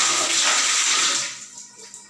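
A DC 12V 150W submersible water pump throws a strong spray of water, a loud steady broadband hiss that drops back after about a second and a half, leaving quieter splashing with no talk.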